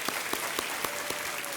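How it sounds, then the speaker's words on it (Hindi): Studio audience on a TV quiz show applauds in a steady wash, with a few louder, distinct claps standing out at a fairly even rhythm; no speech is heard. "आइए, तालियां बजती रहें देवियों और सज्जनों।"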